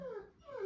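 A dog whimpers close by indoors, two short high plaintive whines separated by a brief pause, with no talk over them.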